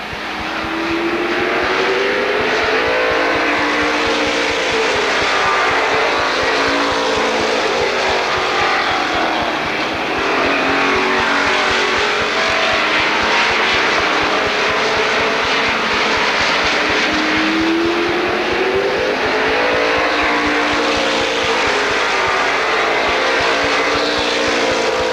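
Several NASCAR Weekly Racing Series stock cars roar around Lorain County Speedway, their loud engines rising and falling steadily as they sweep past. The din is continuous for the whole stretch, with no voices over it.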